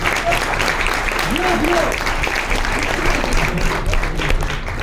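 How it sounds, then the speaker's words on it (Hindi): Loud audience applause fills a hall throughout, steady clapping from a crowd with voices faintly mixed in underneath. "एक बार जोरदार तालियां बजाइए।"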